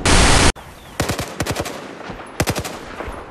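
Automatic gunfire in the Battlefield video game, a loud burst of noise opening into several quick volleys of sharp shots in short clusters, close and punchy, with no talking.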